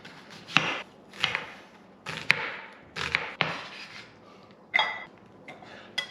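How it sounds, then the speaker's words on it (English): A knife dices an onion very small on a cutting board: a handful of sharp, close chops in uneven bursts with short pauses between, no talking. "Don't laugh at my onion cutting skills."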